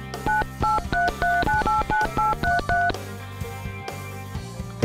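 A toy telephone number is dialed as a quick run of about a dozen short beeping tones in a steady rhythm, followed by a lower humming tone.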